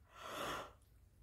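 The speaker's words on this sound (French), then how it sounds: "mais je bâille" A single soft, drawn-out yawn from a woman, a brief breathy swell rising and fading within about a second, quiet and close with nothing else around it.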